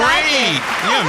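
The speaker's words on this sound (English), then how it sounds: "If we like the music, we may applaud for it." Studio audience applause at a live music talent show, a short dense burst of clapping and crowd noise with a voice speaking over it.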